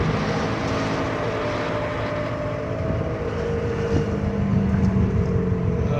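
A Dodge Caravan accelerates up to about 30 miles an hour, giving a steady, close, low droning rumble with a throbbing, helicopter-like beat that holds at even loudness throughout, with no talking.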